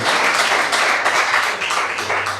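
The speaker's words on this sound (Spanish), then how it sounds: "es un aplauso para usted por estar aquí" Church congregation applauding together, a dense, steady patter of hand claps filling the room for a couple of seconds, with no voices standing out.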